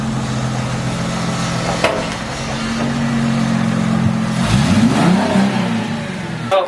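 A Ford Mustang's engine hums steadily and climbs in a couple of revs as the car is pulled up, loud and close, with a rising whine near the end.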